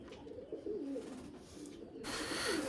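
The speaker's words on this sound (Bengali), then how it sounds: "এগুলো সব ইকবাল স্যারের পায়রা" Pigeons in a breeding loft coo softly in repeated low rolling calls against quiet background noise, followed by a brief burst of broadband hiss near the end.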